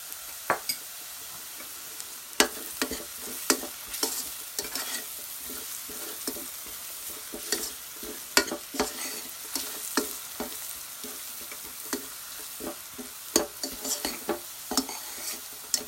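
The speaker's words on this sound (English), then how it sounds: "go and stir it so it doesn't stick to the bottom of the saucepan or even burn" Spices fry in oil in a saucepan over low-medium heat, giving a soft continuous sizzle broken by repeated scraping and clinking stirs of a utensil against the pan.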